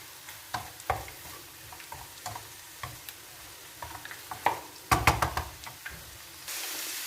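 Green chili peppers fry in an oily pan for karnıyarık with a soft steady sizzle, broken by sharp knocks and taps of a utensil stirring against the pan, close up, followed by a louder hiss near the end.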